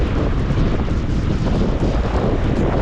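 Strong wind with rain roars steadily across the microphone, a constant loud rushing noise with no breaks and no voices.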